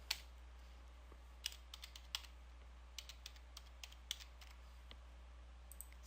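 Keys on a computer keyboard are tapped at an irregular pace, each click crisp but fairly quiet and close, with short pauses between clusters of strokes over a faint steady hum.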